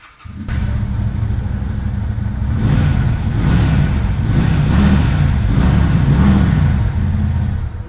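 Lifan V16S 250cc twin-cylinder cruiser motorcycle engine running loud and close, starting abruptly and then holding a steady, deep throbbing idle with slight rises in revs, with no talking.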